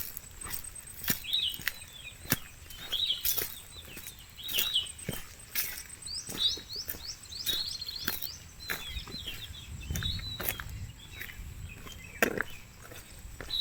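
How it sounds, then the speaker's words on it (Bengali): Birds calling near a forest road on the way to Bhatinda Waterfalls near Dhanbad, faint scattered chirps and short call phrases over soft outdoor background with light rustling and footsteps. "ওই পাখি ডাকছে।"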